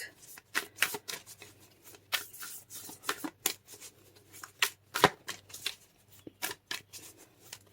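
Oracle cards are shuffled in quick riffling bursts, a rapid flurry of crisp paper flicks and snaps, close and fairly quiet, with no talking.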